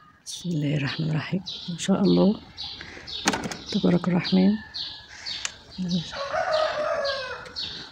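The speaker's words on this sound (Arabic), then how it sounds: "سامعين صوت العصافير؟ هناك كده في شجرة كبيرة شايفينها دي" Many sparrows chirp in a big tree at sunrise, a steady busy twittering heard throughout beneath someone talking close by.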